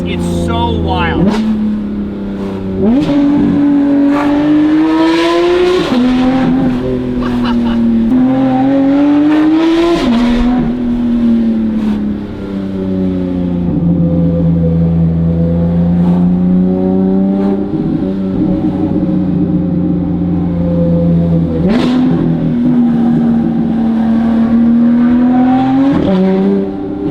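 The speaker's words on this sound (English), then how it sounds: "listen to how exotic this sound is" A Porsche 992 GT3 RS flat-six with titanium race exhaust and free-flow headers howls loudly nearby, its pitch repeatedly climbing and dropping through revs and shifts, with occasional faint voices in the background.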